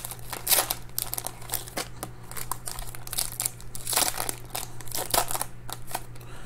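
Foil packs of 2021 Topps Gypsy Queen baseball cards are torn open, giving close, loud bursts of crinkling and ripping foil in irregular clusters over a faint low hum.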